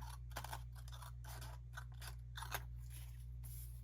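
Scissors snip through paper cheat sheets to trim off a checkbox side, giving a run of close, crisp cutting strokes in uneven rhythm with short pauses between them, heard alone without talk.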